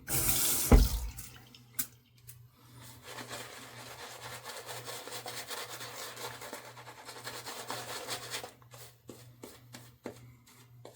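Tap water runs steadily into a sink while wet-shave gear is being prepared, a continuous close splashing rush that follows a sharp knock at the start and ends in scattered drips and clinks.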